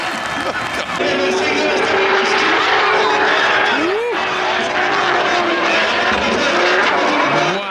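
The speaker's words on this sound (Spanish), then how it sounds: "More contact as Zalewski takes a hammering to the side of Cerba's BMW" BMW drift cars race at a Drift Masters GP event, loud and continuous engine roar with rising and falling revs and tyre squeal, close by and steady throughout with no talk.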